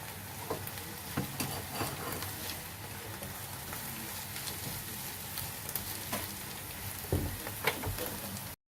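Onions and chopped greens fry softly in a pan for an Egyptian eggah omelette, a low, even sizzle broken by occasional spoon scrapes and knocks against the pan.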